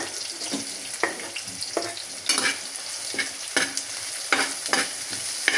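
Ginger and liver sizzle in a hot pan, with repeated sharp scraping strokes of a utensil stirring at a regular pace over a steady frying hiss, close by.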